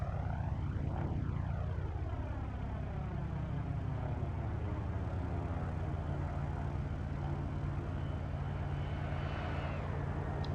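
An aircraft roars past in the FSX flight simulator, a loud engine drone with a sweeping pitch glide that falls as it passes close, then settles into a steady low rumble.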